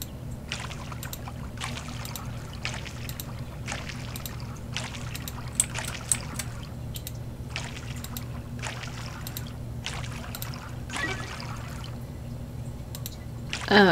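Repeated splashing pours from a watering can on crops in the farming game Coral Island, recurring in short bursts under a steady low background hum with no talk.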